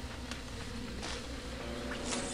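Bees buzzing around a beehive in Psychonauts, a soft steady insect drone with a few brief louder passes, no voices over it.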